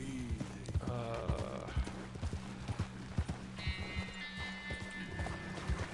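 Horse hooves in the video game Red Dead Redemption 2 beat a quick, regular clip-clop close by, with a brief whinny and a high tone toward the end, no speech.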